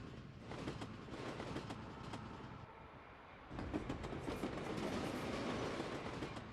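Small N-gauge model trains with Fleischmann rolling stock run along an automated snowy display layout with tunnels and bridges, a steady faint rolling rumble and clicking of wheels on track that dips briefly before picking up again.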